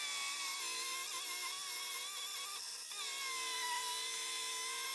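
Cordless battery chainsaw cutting through wood, a steady high-pitched motor whine with its pitch wavering slightly as the chain bites, running continuously without pause.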